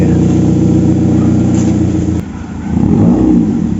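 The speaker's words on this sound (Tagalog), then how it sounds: "Sports car yung ano, tunog, oh. Pero totoo niyan, butas yung tambucho kaya ganyan siya." A car engine drones loudly with a rough, raspy exhaust note through a holed exhaust, dips briefly, then revs up again with a throaty, rattling roar.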